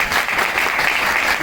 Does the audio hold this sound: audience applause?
yes